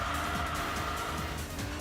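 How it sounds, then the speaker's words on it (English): Car engines droning steadily in the racing video game Enthusia Professional Racing, a continuous loud whine with occasional faint tire squeal over the full stretch. "the car noises not being too intrusive"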